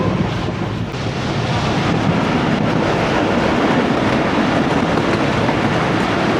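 The 14DN Awam Express train rumbles between Rohri and Mahrabpur, heard from on board as a continuous loud roar of wheels and carriage noise mixed with wind buffeting, steady throughout with no talking.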